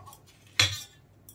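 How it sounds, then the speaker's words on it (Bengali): Fried flattened rice (poha) with raisins tipped out of a frying pan, heard as one short clattering, rustling pour with a metallic scrape, close and alone against a quiet kitchen background. "চিড়েটা ভাজা হয়ে গেছে, এখন আমি নামিয়ে নেব। এখন আমি এগুলো ঢেলে নেব।"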